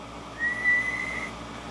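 A person whistles a steady, wavering tone into a microphone to test the output of a JB-76 ham radio transmitter feeding a dummy load, heard close and alone over a low electrical hum.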